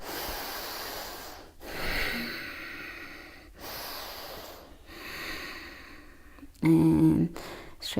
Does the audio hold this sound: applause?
no